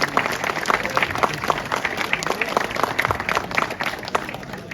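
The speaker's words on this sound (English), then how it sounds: "Round of applause for that man there" Steady applause from a crowd at an outdoor car show, honoring the owner of a rat-look Chevy truck parked by the podium, a continuous dense patter of many hands clapping throughout.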